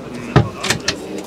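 A drawer opens inside a compact camper van, a short thump followed by a couple of quick sliding clicks, close and fairly loud.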